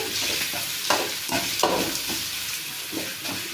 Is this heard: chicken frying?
yes